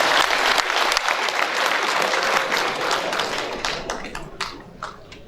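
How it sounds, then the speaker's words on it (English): Audience applause at a school association's annual general meeting, loud and close, dense rapid clapping that thins out toward the end into scattered individual claps. "I think he deserves a bigger clap."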